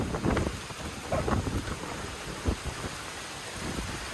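Gusty typhoon wind roars against the microphone with low rumbling bursts and thunder, a storm blowing hard in Palauig, Zambales, with no voices heard.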